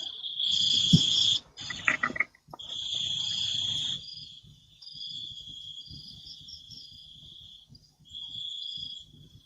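Crickets chirp at night in steady high-pitched trills, loud and close, broken by short pauses and a few brief gaps, with faint low rustling underneath and no voices.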